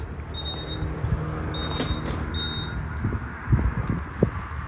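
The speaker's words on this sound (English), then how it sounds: "you're going to have to cut the remote off, which then this machine's going to start beeping" A 100-foot spider lift beeping after its remote is cut off, three short electronic beeps at a steady interval, fairly clear, over a low idling rumble and background noise.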